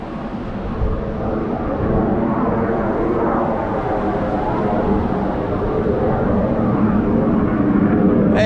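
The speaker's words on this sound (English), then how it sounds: "Where's this bloody aeroplane?" An aeroplane flies overhead above a beach during surf fishing at low water, a steady broad roar that slowly builds in loudness, heard alone without talking.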